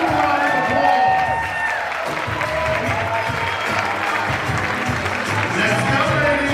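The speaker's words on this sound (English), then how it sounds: "Look at the round of applause." A crowd at a Pride event at New York City Hall claps, cheers and whoops loudly, with shouting voices and a long whistle-like tone over dense applause throughout.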